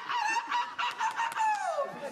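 A voice mimics a rooster crowing, a drawn-out, wavering cock-a-doodle-doo call with several rising and falling bursts, close and fairly loud, with no other sound around it.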